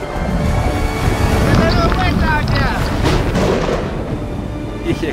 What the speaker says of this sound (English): Big, big waves coming up behind me.